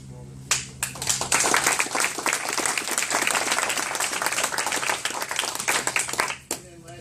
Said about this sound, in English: And just another round of applause for all the people.